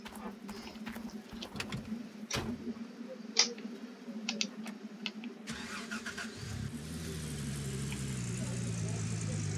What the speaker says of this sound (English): I am going to get the truck, move everything down there